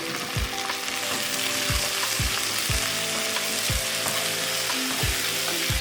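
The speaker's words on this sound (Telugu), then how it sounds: "ఉల్లిగడ్డలు అయితే ఫ్రై చేసుకుందాము" Onions sizzling steadily in oil in a pan for chicken kurma, a loud, close, continuous frying hiss with regular low knocks from stirring roughly every half second to second.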